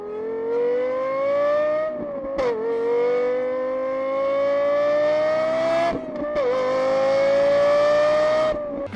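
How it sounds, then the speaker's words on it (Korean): A Lexus LFA's high-pitched V10 engine wails loudly, climbing steadily in pitch through long pulls, dropping briefly twice as gears shift, then rising again. "V10 엔진 사운드 들어보면"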